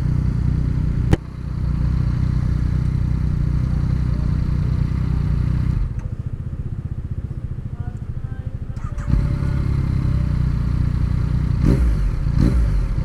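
A 2015 Yamaha MT-09 naked motorcycle idles with a steady mid-pitched engine rumble, a sharp click, then a brief dip and settle back to idle, a couple of small throttle blips near the end.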